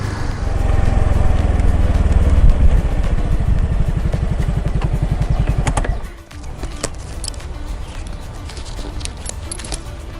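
A Yamaha Fazzio 125 hybrid automatic scooter pulls away on throttle, a close, buzzing engine note building and pulsing for several seconds before dropping away to a quieter idle with light clatter.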